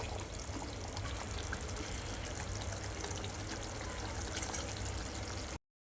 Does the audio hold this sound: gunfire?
no